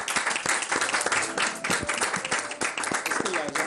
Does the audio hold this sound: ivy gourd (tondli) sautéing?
no